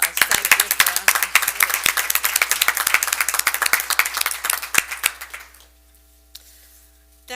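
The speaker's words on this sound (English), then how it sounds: "All right, now we have an applause." Applause at a school board of education meeting: a room of people clapping in sharp, scattered claps that fade out after about five seconds, leaving near silence with faint background hum.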